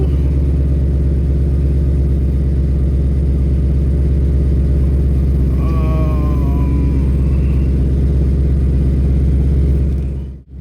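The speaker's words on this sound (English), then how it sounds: "Okay, so we're going to start the car." A 2020 Ford Mustang engine idles with a loud, steady low rumble, close by, with a brief higher whine in the middle before the sound cuts off abruptly.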